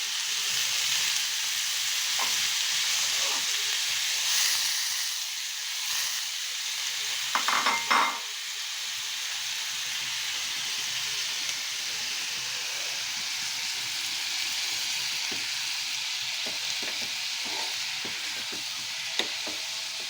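Coated bitter gourd pieces fry in a pan over low heat with a steady, close sizzle and crackle that runs the whole time, a few louder spatters and stirring scrapes rising briefly.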